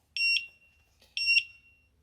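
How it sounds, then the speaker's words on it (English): An ABUS 440a bicycle lock alarm, set off by kicking the lock, sounds two shrill bursts, each a pair of piercing high beeps trailing into a ringing tone, about a second apart, with a faint click between them. "if I continue, we have the alarm."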